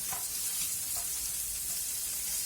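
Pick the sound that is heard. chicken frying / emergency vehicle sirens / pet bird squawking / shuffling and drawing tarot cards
chicken frying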